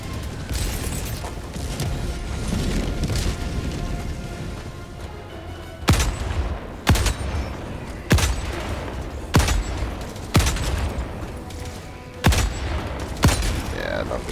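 Heavy gunshots from an Eruptor and an anti-materiel rifle in Helldivers 2, about seven loud, sharp booming shots fired at irregular intervals of roughly a second over a dense backdrop of battle noise and rumble.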